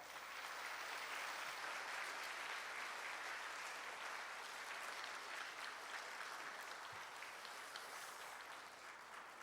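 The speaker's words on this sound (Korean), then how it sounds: "우리 참여하신 우리 서로를 위해서 박수 한번 할까요?" Sustained applause from a church congregation at a Sunday service concert, a dense steady wash of many hands clapping that holds evenly for the full stretch and eases only slightly at the end.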